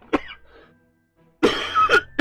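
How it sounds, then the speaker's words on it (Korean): Person coughing indoors, close and loud: one sharp cough, a short pause with faint throat sounds, then a harsh burst of two or three coughs in quick succession. "여기서 갑자기 기침이 많이 나오더라고요"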